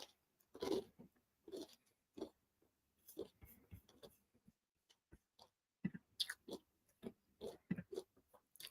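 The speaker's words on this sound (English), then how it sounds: "Sorry if you can hear me crunching" Someone crunching food while chewing, very close but faint, with irregular crisp bites and chews in bursts and short pauses between them.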